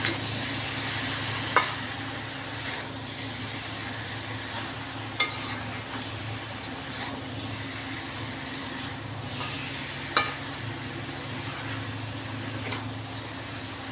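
A spiced dish fries in a pan after salt is added, with a steady, close sizzle under slow stirring and a few isolated spoon knocks against the pan.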